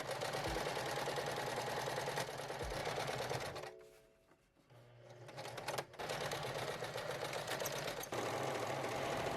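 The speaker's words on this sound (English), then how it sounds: "I do a straight stitch while going across the waistband while stretching out the elastic at the back." A sewing machine runs a straight stitch across an elastic waistband on gingham pants, a steady loud motor whir with a short pause in the middle before stitching resumes.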